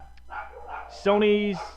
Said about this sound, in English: my dog's barking background